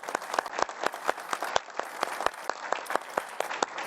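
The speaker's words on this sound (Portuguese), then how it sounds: "Eu só queria também pedir aqui uma salva de palmas para o Luciano Coutinho" Audience applause at a forum event: sparse, distinct claps from a small crowd, fairly quiet and unevenly spaced, with no talking.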